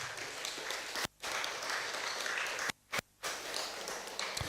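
A crowd at a community organization's launch event gives a round of applause, a steady mass of clapping broken by brief abrupt dropouts into silence before resuming.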